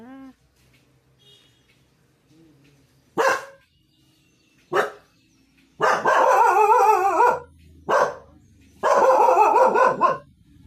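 Dogs bark in scattered bursts, a couple of sharp single barks followed by longer rapid volleys of barking, fairly close against a quiet background.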